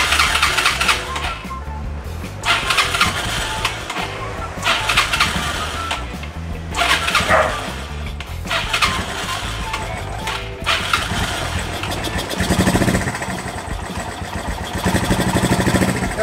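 A Wolf 125 motorcycle refitted with its original carburetor is started with a twist of throttle, with several bursts of cranking and sputtering separated by short pauses before the engine catches and runs near the end.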